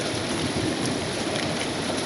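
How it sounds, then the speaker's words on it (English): Heavy rain and marble-size hail hammer down steadily during a severe thunderstorm at Atlanta Hartsfield-Jackson Airport, a dense, loud, continuous roar of impacts. "we're getting marble size hail"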